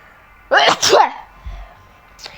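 One loud sneeze bursts out close to the microphone in a quick double-peaked blast. A couple of faint, brief sounds follow in an otherwise quiet room.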